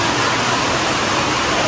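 A sudden rain shower falling, heard as a dense, even wash of hiss that fills the whole moment, close and fairly loud, with no voices over it.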